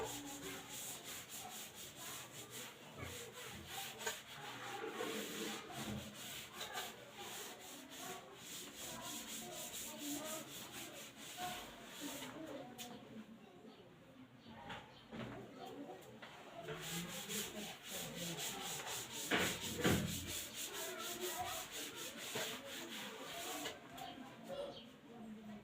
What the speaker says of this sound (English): Next to I will rub this out.